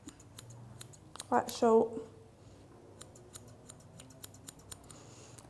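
Small straight scissors snip repeatedly at a Pomeranian's leg fur, quick light clicks in an irregular rhythm, with a short burst of speech partway through.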